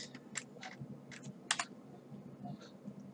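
Computer keyboard keys are pressed for a Photoshop shortcut, giving a quiet series of crisp, irregular clicks spaced over a few seconds, close to the microphone, with no talking.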